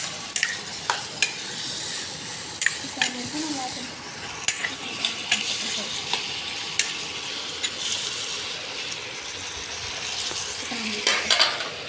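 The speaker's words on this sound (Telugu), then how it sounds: "కరివేపాకు వేసుకొని కలుపుకోవాలి." Curry leaves fry in a pan with a soft, steady sizzle while a utensil stirs and knocks against the metal in scattered sharp clinks, close up, with no voices.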